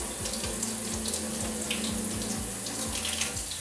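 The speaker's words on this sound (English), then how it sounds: "Remember getting it wet, running the water down the brush." Tap water runs steadily over a makeup brush being rinsed of cleanser at a sink, a continuous close splashing stream with soft rhythmic squelches as the bristles are worked under the flow.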